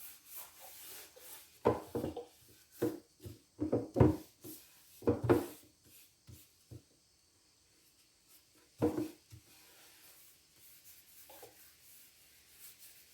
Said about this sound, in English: now I'm taking some tack cloth and I'm just wiping off any remaining excess paint